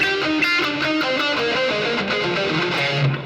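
A heavily overdriven electric guitar plays a sustained distorted riff through a Marshall JMP-1 with its OD2 channel on, thick and buzzing, loud and close with no speech.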